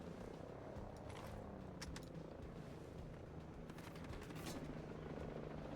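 Helicopter rotor drone from the video game Ghost Recon Breakpoint, a steady continuous thrum with scattered gunfire bursts layered over it.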